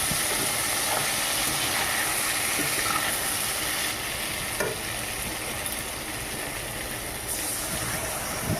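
Spinach with fish head and added turmeric sizzles and fries steadily in a pan while being stirred, a continuous close hiss with faint scraping stirs throughout.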